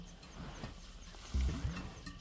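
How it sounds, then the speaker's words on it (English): Muffled grunts and low rumbling from a warthog hidden in its den at night, with a lion nearby, rise briefly to a louder thud-like burst midway through the otherwise dull, murky background. "Muffled sounds give away that a warthog is in its den."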